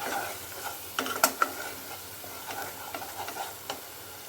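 Onions with turmeric and salt are stirred in a pan for a Bengali-style koi fish curry, a soft sizzle under a few scraping clicks of a spoon against the pan.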